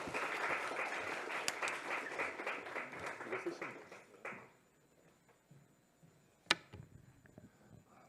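An audience in a lecture hall claps for a professor, steady applause for about four seconds that fades out, followed by near silence with a single sharp tap.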